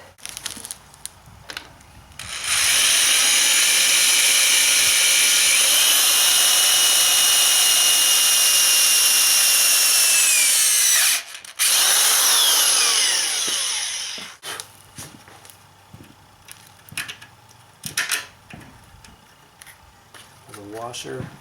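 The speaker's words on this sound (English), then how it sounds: "Let's go ahead and drill it." Power drill boring through a metal electric fan support bracket held in a welder's clamp, one loud continuous high whine lasting about nine seconds, a short pause, then a few more seconds of drilling, followed by clatter and handling noises.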